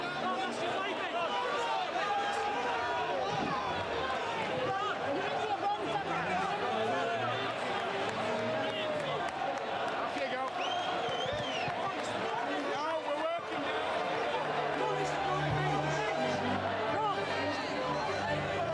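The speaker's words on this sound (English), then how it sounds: "Listen to the crowd's comments" Home fans at a Nottingham Forest football match chatter and call out in a steady, dense babble throughout, a broad crowd murmur with scattered shouts and no single voice standing out.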